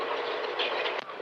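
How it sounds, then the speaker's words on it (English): Continuous rumble of VIA Rail's passenger train The Canadian rolling along the tracks toward Banff, with faint rattles and a brief clunk near the end, no voices. "We've got Clarence Flood here on the train going up to Banff, riding the rails for the last time."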